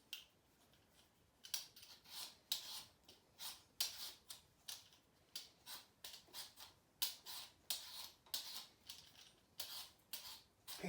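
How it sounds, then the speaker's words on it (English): Potato scraped with a hand peeler in quick, repeated rasping strokes, close and crisp, irregular rhythm with short pauses, no talk. "Then peel it with your peeler."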